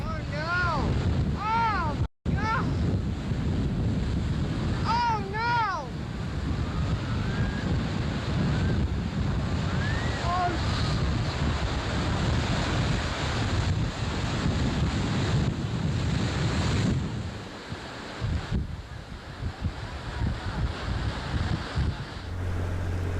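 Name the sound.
rough sea waves and wind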